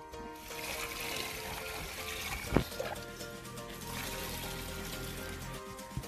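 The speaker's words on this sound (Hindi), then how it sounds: "अब इसके अंदर पानी डाल लेते हैं।" Water is poured into a bucket of cow dung to mix a biogas slurry. A continuous close splashing pour runs through the whole clip, with one sharp knock near the middle.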